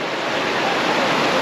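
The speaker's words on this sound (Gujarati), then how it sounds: "ઓલો ધોધ મેં તમને બતાવ્યો તો એ સામે જ છે" The Jamjir waterfall on a river roars as a dense, constant rush of falling water, loud and close, holding steady with no pauses.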